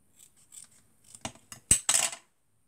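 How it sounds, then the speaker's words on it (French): A few soft rustles followed by several crisp scissor snips close by cutting felt, ending in a short burst of cutting, then quiet. "voilà, découper."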